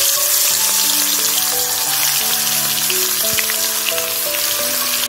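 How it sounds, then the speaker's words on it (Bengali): Pieces of rohu fish frying in hot oil in a wok, a loud and continuous close sizzle with crackling spatter that carries on unbroken, alone and with no talk, until it cuts off at the very end. "আমি কড়াইয়ে তেল বসিয়ে দিয়েছি, তেল আমার গরম হয়ে গেছে। এরপর আমি মাছগুলো ছেড়ে দেব।"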